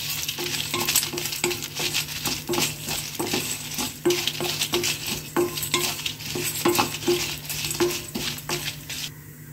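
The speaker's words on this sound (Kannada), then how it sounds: "1 ಚಮಚ ಆಗುವಷ್ಟು ಕಡಲೆಬೇಳೆ, 8-10 ಕಾಳುಗಳು ಮೆಂತ್ಯ, 1¼ ಚಮಚ ಜೀರಿಗೆ, ಖಾರಕ್ಕೆ ಬೇಕಾಗುವಷ್ಟು ಒಣ ಮೆಣಸು ಹಾಕಿ ಚೆನ್ನಾಗಿ ಹುರ್ಕೋತಾ ಇದ್ದೀನಿ." Chana dal, fenugreek, cumin and dry chillies are dry roasted in a pan. A spoon scrapes and stirs in a steady, repeated rhythm over a faint sizzle, up close and moderately quiet with no speech.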